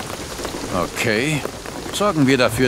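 Steady rain falls in the video game Shadow of the Tomb Raider, a constant wash heard beneath people talking.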